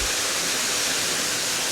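Water flows steadily at a hot, sulphurous spring pool near Chiang Mai or Chiang Rai, a dense, constant rushing hiss with no breaks, close and fairly loud.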